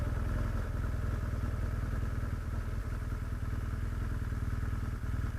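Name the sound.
motorcycle engine riding off road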